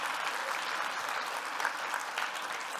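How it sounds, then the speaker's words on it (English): An audience applauds steadily for a person being honored at a talk, with dense, sustained clapping throughout and no speech. "So yeah, round of applause for E.J."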